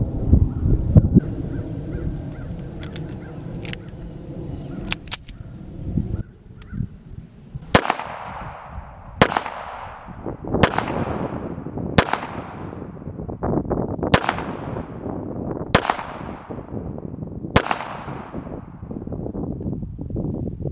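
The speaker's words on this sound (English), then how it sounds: "Let's go ahead and give it some shots" A compact concealed-carry pistol fires a rapid string of about seven loud, sharp shots at an outdoor range, spaced roughly a second and a half apart, each ringing out with a decaying echo after some earlier handling clicks.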